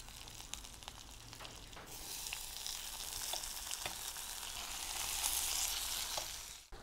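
Tomatoes hit hot mustard oil with cumin seeds, ginger and green chilli, setting off a bright, continuous sizzle that grows a little stronger over several seconds and carries scattered crackles and pops.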